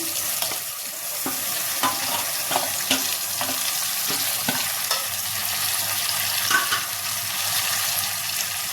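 A curry of drumstick, tomato and potato cooks in a pan, giving a steady soft sizzle with intermittent scraping and stirring clicks throughout.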